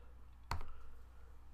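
A single sharp computer mouse click on a Mac, close and distinct, set against a quiet room hum.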